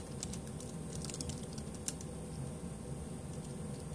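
Rapid clicking of keys on a computer keyboard, light and irregular taps at close range against a low background hum.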